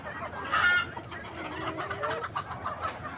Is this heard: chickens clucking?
yes